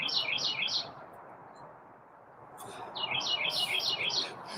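Bright bird chirps in quick bursts, a cluster at the start and another after a short pause, fairly close over a soft background hiss.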